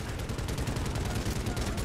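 Rapid, continuous gunfire rattles loudly in a dense burst, automatic weapons firing in the video game Medal of Honor: Warfighter.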